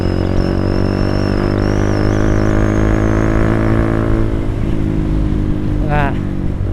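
A manual-clutch motorcycle accelerates along a quiet road, its engine droning loud and steady with rising pitch and constant wind rush as the rider talks over it.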